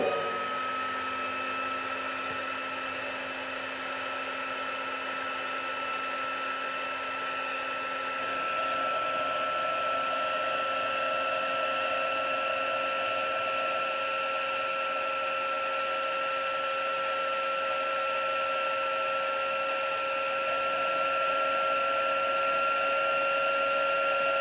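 A handheld heat tool blows hot air over a stamped art journal page, a steady whirring fan whine with a constant airy hiss that holds for a long stretch, slightly rising in loudness midway, with no talking.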